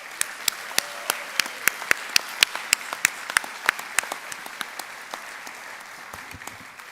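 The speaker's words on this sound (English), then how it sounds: "Let's give yourselves a round of applause." Graduates at a summer university commencement ceremony give a round of applause. Sharp, distinct hand claps ring out in an irregular rhythm over a steady room hum, thinning out toward the end.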